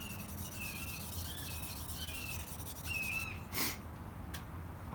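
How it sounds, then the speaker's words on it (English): A hawk calls in the morning outdoors, a series of thin, high whistled cries repeating a few times at moderate distance over quiet background, followed by a brief sharp noise near the end. "I hear a hawk."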